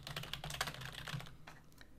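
Quick, close typing on a computer keyboard, a rapid run of light key clicks that slows toward the end, with no talking.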